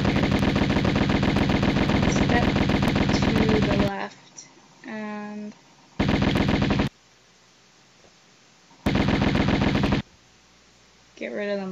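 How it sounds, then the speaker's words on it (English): Enemies in the Atlantis level of the video game Tomb Raider fire loud rapid machine-gun bursts, a long volley followed by two shorter ones separated by quieter gaps containing electronic chirps. "These things shoot at you a lot"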